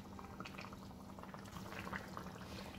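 Mint and coriander water is added to mutton biryani cooking in a pressure cooker, giving a quiet, continuous bubbling and sizzling of liquid with soft pouring splashes close by.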